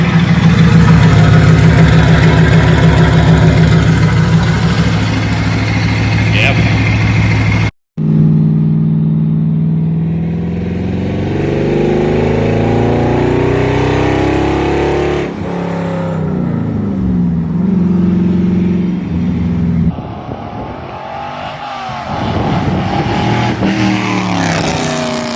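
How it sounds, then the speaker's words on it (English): A Ford Focus with a swapped V8 and a straight-through exhaust from the manifolds back, running very loud and raw, rumbling at idle, then revving and pulling away with rising and falling engine tones close by. "first time driving it after doing the straight pipes. So it's super loud now. It's complete straight through exhaust from the manifolds back"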